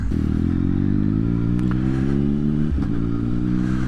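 2016 Triumph Speed Triple R motorcycle engine, recorded close and loud, holding a strong droning rev that dips briefly before climbing again, alone without talk.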